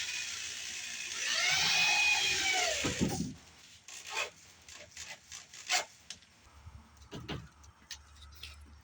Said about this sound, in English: let's go ahead and put up our first piece of this paneling